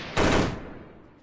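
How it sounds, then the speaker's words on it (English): A single loud gunshot from a headshot in the shooter Freeman Guerrilla Warfare, a sharp crack followed by a quickly fading echo, alone with no voices. "I headshot because you're poking your head up over the hill"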